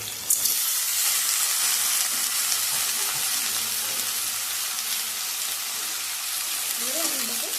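Chopped potatoes frying in a pan, a loud steady sizzle close by with a clatter as they hit the oil and faint voices near the end.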